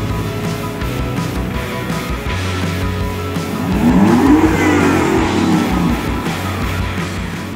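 An Alfa Romeo Giulia GTAm pulls away on a Mille Miglia road stage toward Rome, its engine droning steadily then swelling into a louder rising rev as it accelerates, heard from inside or close by.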